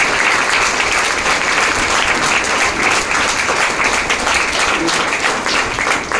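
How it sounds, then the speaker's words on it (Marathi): A hall audience claps loudly and steadily in sustained applause for Seema madam and her team at an ICTI Kalamboli felicitation ceremony, a dense continuous wash of many hands. "त्यासाठी एकदा सीमा मॅडम त्यांच्या टीमच्या जोरदार टाळ्या वाजवा."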